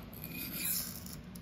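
A single forward stroke of a REX-45 steel knife blade across a sharpening stone, a short, faint, close raspy scrape that swells and fades over about a second.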